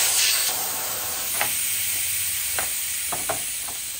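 Air hisses steadily from a dirt bike tire's valve stem with the valve core removed, a continuous bright rushing sound, close up, with a few faint clicks and taps over it.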